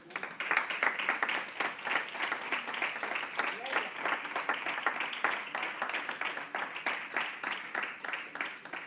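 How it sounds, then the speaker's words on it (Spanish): A church congregation applauds during a Sunday service, steady enthusiastic clapping from many hands that continues evenly for nearly nine seconds, with voices faintly mixed in. "Den un aplauso al Señor."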